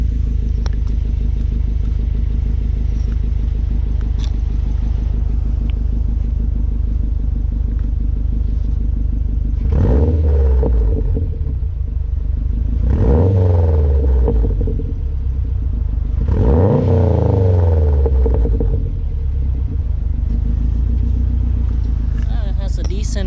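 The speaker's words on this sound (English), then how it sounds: "Let's hear some exhaust sound here." A 2011 Subaru Impreza WRX hatchback engine idles with a low rumble, then revs up in several bursts through the exhaust, each rising and falling, close by, with some talk around it.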